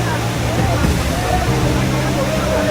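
Chupuri waterfall deep in the Sitakunda hills, a loud, steady rush of falling water filling the whole scene, close by and unbroken, with no speech over it.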